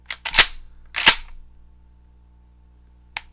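Mossberg 500 pump-action shotgun being cycled, with a pair of sharp metallic clacks close together, then a quiet pause and a single light click near the end.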